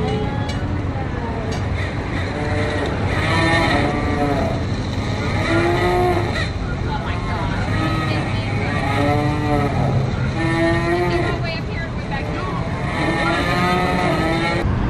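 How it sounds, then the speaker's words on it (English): Cows moo loudly again and again, long drawn-out calls overlapping one another, with faint voices and background noise underneath. "I don't think cows are that loud."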